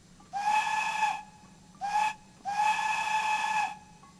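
Steam locomotive whistle in Train Simulator 2021 on the Bristol to Exeter route: three loud harmonic blasts, a long one, a short one, then another long one, heard alone over a low rumble.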